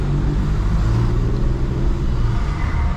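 A VW Virtus 1.0 TSI with a downpipe and open exhaust without a muffler idles and revs close by, a loud, steady rumbling drone holding through the whole stretch.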